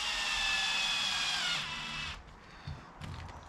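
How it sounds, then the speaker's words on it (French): A power drill drives screws into parts of an RC car, whirring steadily at high speed for about two seconds before stopping, followed by a few faint handling knocks. "on va visser ça"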